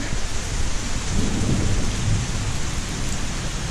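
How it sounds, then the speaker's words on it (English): Pouring summer rain roars loud and close with a low rumble of thunder rolling through the middle, the downpour hissing steadily from start to finish with no talk. "I got stopped a bit short because it is pouring out"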